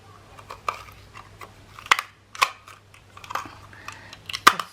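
Sharp clicks and snips of a paper craft punch cutting small shapes for hair slides, irregular crisp snaps over several seconds with quiet handling noise between, close up.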